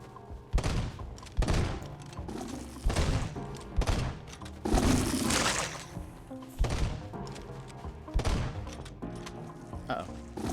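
Gunshots from a player's gun in the video game Eastward, several sharp, punchy blasts spaced a second or two apart over game music, with one longer noisy burst in the middle.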